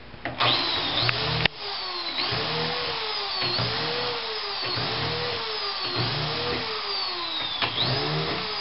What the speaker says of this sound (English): then drill the corresponding holes for that ski